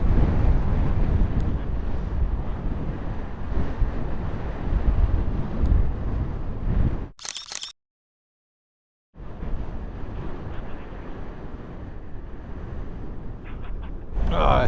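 Strong wind buffets the microphone on the beach at Ushuaia, a loud continuous rumble with surf mixed in, dropping out briefly midway before gusting back just as hard.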